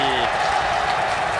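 A baseball stadium crowd at a Korean professional game roars and applauds in a dense, loud, continuous wash of cheering.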